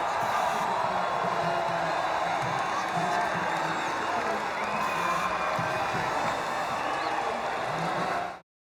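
A podium crowd in the F1 25 racing game cheers and whoops in a steady, dense roar at the track with scattered clapping, holding loud throughout and then cutting off abruptly at the end.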